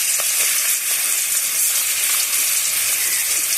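Marinated chicken fries in hot oil in a wok, a loud, dense, continuous sizzle with crackling spatter holding steady close by.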